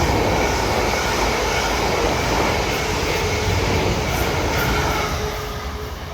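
South Western Railway train pulling away toward London Waterloo at Raynes Park on the South West Main Line, a steady loud rumble with broadband rushing noise that holds for several seconds, then begins to fade near the end.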